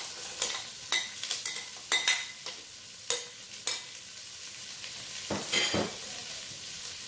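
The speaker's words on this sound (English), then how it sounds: "what I'm gonna do next is I'm gonna add in the celery to get it softened" Celery stirred in a soup pot with sausage, crackling softly at a moderate sizzle, with intermittent clinks and scrapes of a utensil against the pot.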